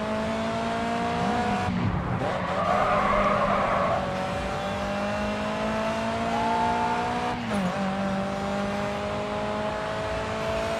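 Race car in Grid 2 braking late, with a loud steady engine drone and a burst of skidding tire noise near the start and again near the end, alone without talk.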